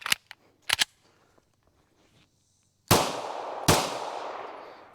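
A Canik TP9-SFX pistol fired at close range: two sharp, loud reports about a second apart, each followed by a ringing decay, after a few lighter clicks and handling noises.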